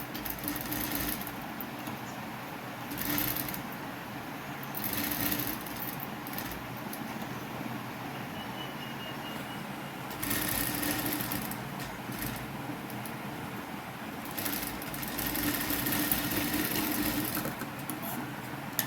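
A sewing machine stitches along folded fabric edges in bursts of quick rattling running, separated by pauses, heard close and moderately loud.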